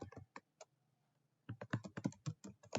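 Keys clack on a computer keyboard as an account name is typed, a short burst of taps, a pause, then a quicker, louder run of close keystrokes with no talking.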